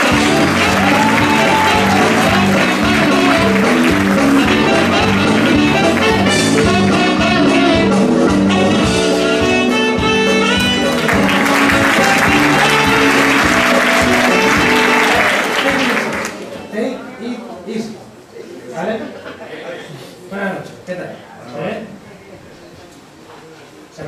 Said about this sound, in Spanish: Un fuerte aplauso para él y su monólogo